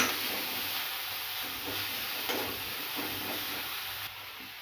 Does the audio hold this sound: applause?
no